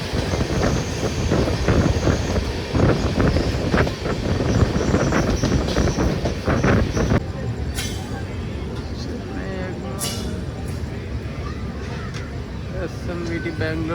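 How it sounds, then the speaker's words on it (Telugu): SMVT Bengaluru–Danapur Express passing close, a loud continuous rumble and rattle of coaches that thins after a few seconds into lighter clatter with faint squeals, with a voice mixed in. "SMVT Bengaluru Danapur express."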